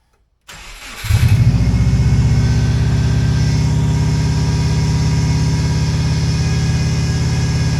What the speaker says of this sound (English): Yes, just like that, it's fired up. We got the RPMs going very high.